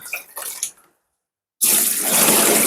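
Water is poured from a canning ladle while pickling watermelons for winter, a steady close splashing stream starting after a short silence and running to the end, with faint handling noises before it.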